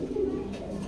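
A female pigeon from a breeding pair in a pigeon loft coos briefly, a low throaty call close by against faint background noise.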